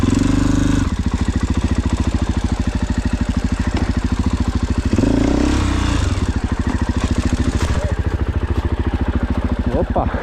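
A motorcycle engine runs close by, mostly at a steady idle with a fast, even pulsing throb and a brief rev around the middle; a voice speaks faintly over it near the start.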